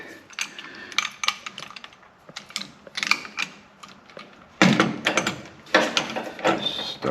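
Hand crimping tool working a fitting onto an air conditioning hose for a Vintage Air system on a 1972 Chevelle SS, giving bursts of close mechanical clicking and ratcheting squeezes that grow louder near the end.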